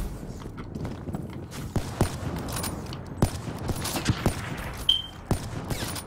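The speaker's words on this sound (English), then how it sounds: "I'm just trying to shoot like crazy." Rapid gunfire in the shooter game Black Ops 3: a steady stream of quick, uneven shots, moderately loud over a busy background of game noise.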